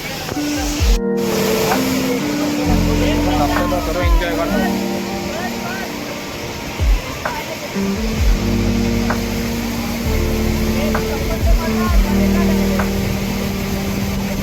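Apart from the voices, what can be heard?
Tahuli waterfall, Tawdi near Ambernath, strong water flow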